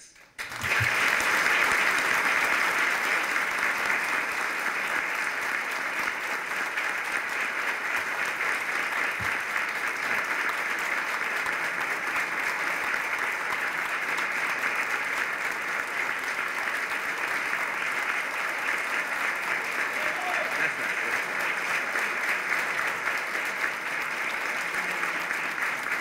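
A large audience breaks into sustained applause after a conference talk, the clapping swelling quickly and holding as a loud, dense wash of hands for over twenty seconds without a break.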